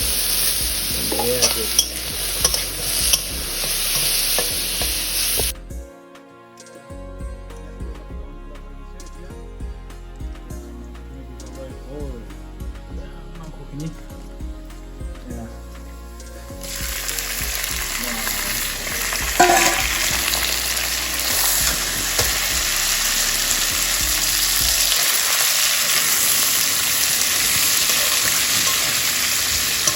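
Local desi chicken fries in a kadai with a dense, hissing sizzle that drops to a quieter bubbling stretch before the loud frying returns, with faint stirring and little talk.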